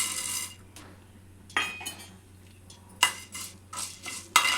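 Fenugreek and coriander seeds frying in hot oil while a spoon stirs them, with sharp metallic scrapes and clinks against the pan in irregular bursts over a faint background hum.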